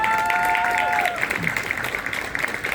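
Audience applause at a comedy event, steady clapping that continues after a brief tonal sound, with a voice speaking over the start.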